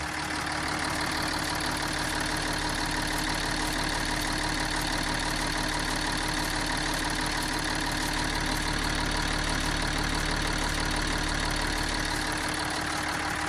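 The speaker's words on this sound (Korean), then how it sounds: "전형적인 V6 엔진의 정숙성을 지닌 엔진이고요" A Hyundai Veracruz V6 diesel engine idles steadily and evenly up close, a continuous low clattering hum with no voices.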